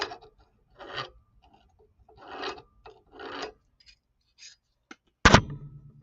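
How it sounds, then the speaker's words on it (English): Hand file rasping along the edges of a flat cut-out sterling silver feather cuff bracelet, in four separate short strokes with quiet pauses between, followed by a sharp louder knock near the end. "I'm just going around the edges and smoothing it out"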